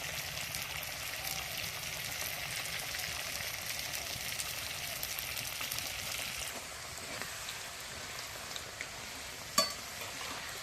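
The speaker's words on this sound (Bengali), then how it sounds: "একসঙ্গে অনেকগুলো ভাজা যায়" Tomato chips frying in hot oil, several slices at once, give a steady dense sizzle throughout, easing slightly partway with one sharp clink near the end.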